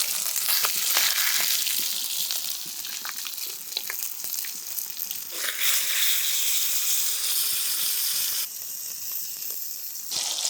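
Masala bat fish frying on a stone griddle, giving a loud, steady, close sizzle with crackling and hiss. It runs without pause throughout, with no talking.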